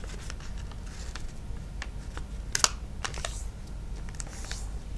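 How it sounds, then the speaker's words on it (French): Paper being folded and creased by hand for an origami advent calendar craft, a run of soft close taps, rustles and scrapes with one sharper crackle near the middle, no talking. "On marque bien les plis avec l'ongle et vous obtenez cette figure."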